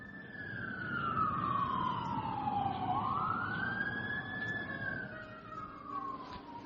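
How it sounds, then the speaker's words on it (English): A siren wails past in the distance, its tone sliding down and rising again over a low traffic rumble, fading slightly toward the end. "As you hear police sirens going by."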